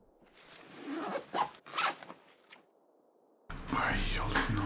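Items packed into a backpack in the video game The Long Dark, with several quick zipper and rustling bursts up close, a short pause, then a louder continuous rustle of gear being stowed.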